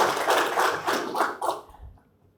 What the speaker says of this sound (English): Please give them a round of applause for their support.